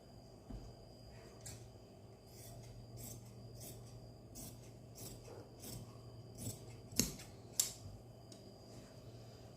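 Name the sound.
scissors cutting velvet cloth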